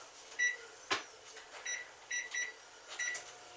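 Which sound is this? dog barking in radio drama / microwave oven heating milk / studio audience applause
microwave oven heating milk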